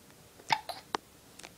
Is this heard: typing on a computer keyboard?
no